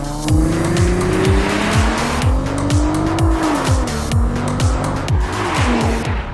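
A Nissan GT-R Nismo accelerates hard. Its engine note climbs through several gear changes while tire squeal rings out loud and close, with no talking.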